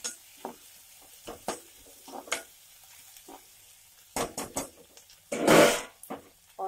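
Corn and peas sautéing in a pan for vegetable soup: scattered stirring scrapes and light sizzles, then a loud, longer sizzle burst near the end, with no talking.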